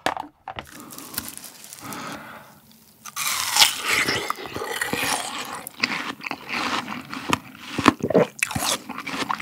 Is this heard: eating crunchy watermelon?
yes